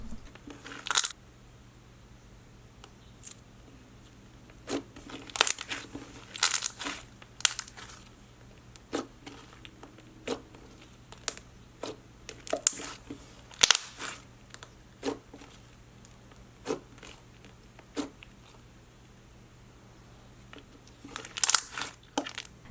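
Crunchy Cocoa Puffs scented slime is squeezed and pressed by hand, giving irregular close crackles and crinkly crunches separated by quiet gaps.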